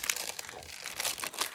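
Wax paper gathered as collage material crinkles and crackles while being handled, a close, continuous run of crisp rustling bursts with sharper crunches throughout.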